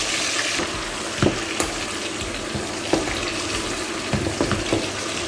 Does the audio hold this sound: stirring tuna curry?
yes